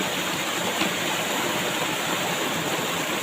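Waterfall in South Cotabato, a steady, dense rush of falling water with no breaks, fairly loud and close, with no voices over it.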